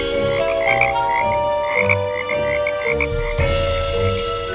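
Frogs croak steadily in a pond, a dense, loud chorus of repeated rhythmic calls layered over one another, close by, with no voices.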